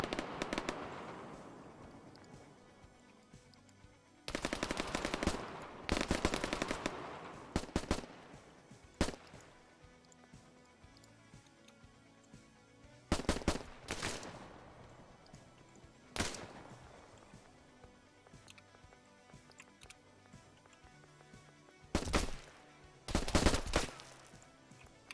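Video game gunfire on Prison Island crackles in scattered bursts and rapid automatic volleys, some loud and near, others faint and distant, across a long firefight.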